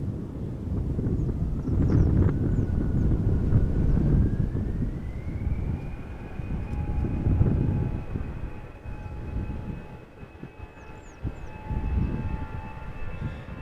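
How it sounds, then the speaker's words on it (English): An EasyJet Airbus A319 airliner rumbles at a moderate distance, its low engine noise swelling and easing under wind buffeting, with a steady high-pitched whine rising and then holding. "Another EasyJet A319, destination Birmingham"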